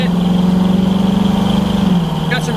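A 1969 Chevrolet Camaro with an aftermarket exhaust idles with a steady, loud, pulsing rumble, its note shifting near the end, while someone talks over it.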